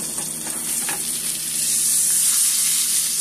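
Salmon fillet frying in a pan, just flipped, giving a loud, steady, close sizzle that holds throughout and swells slightly toward the end.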